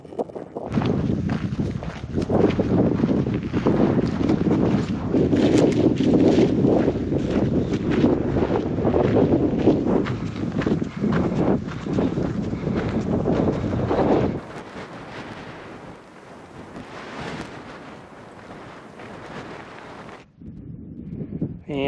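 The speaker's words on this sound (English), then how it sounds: "Super heckin' windy up here, as I expect, above tree line." Strong gusting wind buffets the microphone above tree line on the Toiyabe Crest mountain ridge in Nevada's Arc Dome Wilderness, loud and roaring for most of the clip before easing to a lower, steadier rush near the end.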